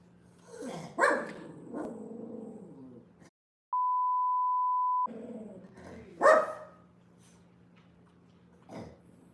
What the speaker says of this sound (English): Twinkie is barking angrily